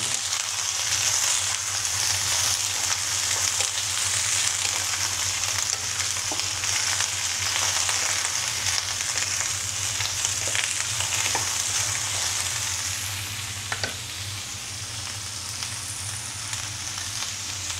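Vegetables and fish mixed while frying in a pan, a loud, steady, close sizzle running throughout with occasional faint clicks of a utensil, easing slightly toward the end.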